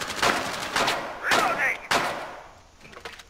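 Gunfire in Rainbow Six Siege: several loud, booming shots in quick, uneven succession, close and harsh, with a voice faintly present beneath.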